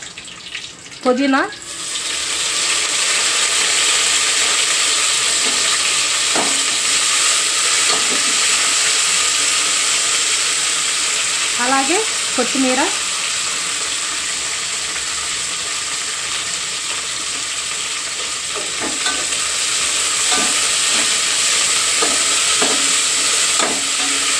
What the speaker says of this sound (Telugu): బాగా వేగనివ్వాలి మనం వేసుకున్న ఈ కొత్తిమీర పుదీనా అలాగే బిర్యానీ స్పైసెస్ కూడా